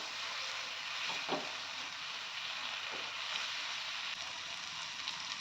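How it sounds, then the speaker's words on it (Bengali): Masala spices fry in oil for a paneer chole dish, giving a soft, steady sizzle with a continuous hiss and a few faint pops. No one talks over it. "আমার মশলাটা প্রায় তেল ছেড়ে দিয়েছেন, আর একটু কষে নেব"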